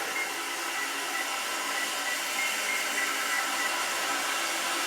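An Eco-NOVA bidet seat's nozzle sprays water in a steady, even hiss that stays constant and close throughout, with no voices.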